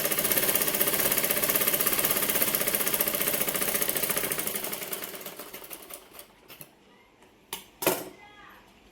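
A sewing machine stitching old saree cloth runs in a loud steady rapid whir for about five seconds, then slows and stops, followed by a few sharp clicks and knocks nearby.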